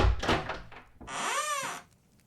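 A heavy door opening, with a few knocking thuds followed by a long, high, wavering creak of the hinges that fades into quiet.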